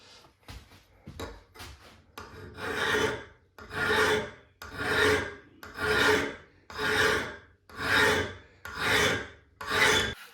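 A metal file sharpening a hardware-store paint scraper: about ten steady rasping strokes in a regular rhythm, each a long gritty scrape, close and fairly loud, preceded by a few short quick strokes.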